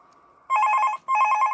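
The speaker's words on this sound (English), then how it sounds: "You got a phone call." Telephone ringing in the video game Five Nights At Thomas's 2. Two loud, clear electronic ring bursts follow a faint hum.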